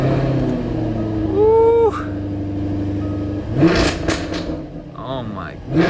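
A stock-exhaust 2016 Jaguar F-Type R fires up with a sharp rising revving flare, then settles into a deep, steady idle rumble, close and loud, with a brief exclamation and talk over the later part.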